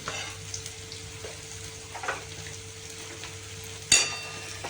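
Onions sautéing in a pan for a paneer masala curry, a steady close sizzle with soft stirring scrapes and one sharp clatter near the end, with no voices.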